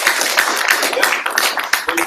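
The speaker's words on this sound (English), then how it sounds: "I hope you're clapping for the meme" Audience at a speaking event in Beit Shemesh clapping, a dense steady patter of many hands filling the room, loud and close, with a voice talking over it.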